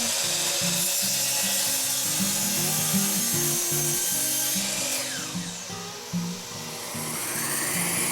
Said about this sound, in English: At the miter saw, I like to trim off the ends of pieces that have a little checking.